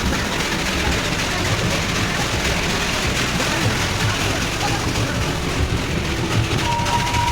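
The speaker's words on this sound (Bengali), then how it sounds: "এইরকম সুন্দর টয় ট্রেন চেপে ঘুরতে।" The Darjeeling toy train runs slowly along the hill railway with a steady, continuous rumble and faint rattling of the carriages, heard from on board with no clear talk.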